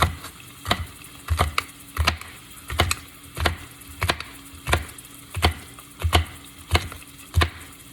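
Knife chopping washed, seeded Anaheim chili peppers for a vegetable stir fry, a steady series of about a dozen crisp, evenly spaced strikes on the board, close and alone with no talking.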